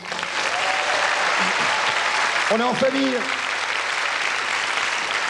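A studio audience applauding in a television variety show, sustained dense clapping filling the room while someone speaks briefly over it.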